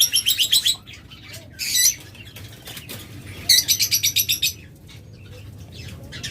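A breeding pair of green rosy opaline lovebirds gives quick bursts of sharp, rapid chirps in three clusters, near and loud, with quieter gaps and faint rustling between.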